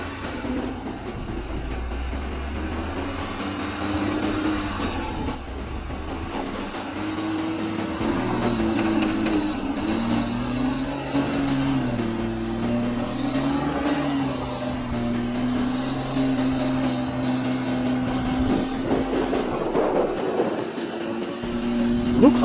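A BMW X5 SUV creeps slowly over a complex off-road obstacle course with a front wheel lifted and tyres slipping, its engine droning low and steady with gentle rises in pitch as it pushes forward.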